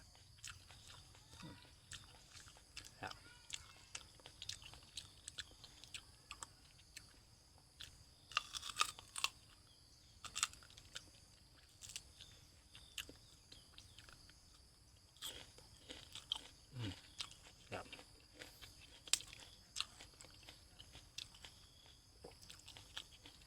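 Dates being bitten and chewed, producing repeated crunchy bites and soft mastication close to the mic, with quiet pauses between bites.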